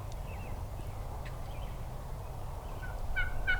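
Wild turkey toms gobble in open hardwoods on Nebraska public land. A single distant gobble rings out near the end, over a low, steady outdoor rumble.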